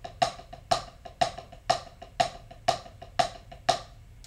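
Drumsticks on a practice pad play a triplet pattern with alternating accents, sharp close strikes where a loud accented hit lands roughly every half second between softer taps.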